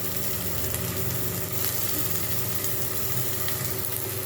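Finely chopped small and large onions fry in butter and oil in a pan for a baby corn gravy, giving a steady, even sizzle up close with faint occasional stirring.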